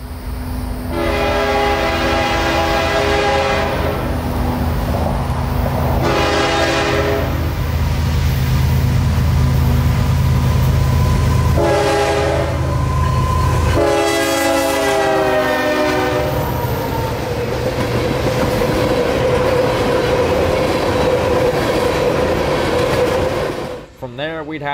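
CSX freight train K422 on the S-Line, running past at speed and sounding its horn in several long blasts over a loud continuous roar of wheels and cars; a voice briefly talks over it.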